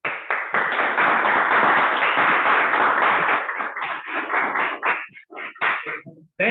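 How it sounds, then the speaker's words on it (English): Applause from the audience at a Toastmasters club meeting, loud and dense for about five seconds, then thinning into scattered individual claps before fading out. "Thank you so much for the unwarranted applause"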